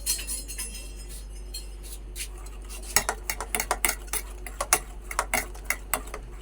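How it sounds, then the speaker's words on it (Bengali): A spoon mixing a spice filling of turmeric, chili powder, pepper and ground coriander in a bowl. Sharp metallic clinks and scrapes come in an irregular run, growing busier partway through, close and clear over a low steady hum. "সব কিছু একসঙ্গে খুব ভালো করে মিশিয়ে নেব।"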